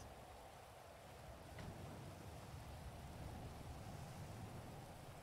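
Steady rain falling in the video game GTA 5, a broad continuous hiss on the ground that swells slightly partway through, with no talking.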